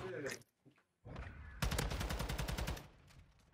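Rapid automatic gunfire in a first-person shooter video game at a community game night rings out in a dense burst of repeated shots after brief opening chatter, fairly loud and close.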